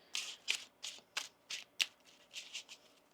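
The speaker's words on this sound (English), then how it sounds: "One more shuffle here." Quick riffling bursts of tarot cards being shuffled, about eight in a steady rhythm, close and fairly soft, with no talking.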